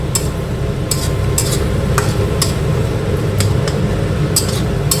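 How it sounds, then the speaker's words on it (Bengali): Chili powder, turmeric and other ground spices being stirred and fried in a pan for a paneer curry: a steady close sizzle under repeated sharp clicks and scrapes of a spoon against the pan, with no talking. "মশলাটাকে ভালো মতন কিন্তু কষিয়ে নিতে হবে যেন কাঁচা গন্ধটা না থেকে যায়।"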